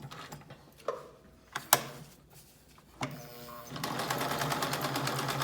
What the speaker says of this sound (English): the needle is making multiple stops or multiple punctures to create what looks like a multi-point zigzag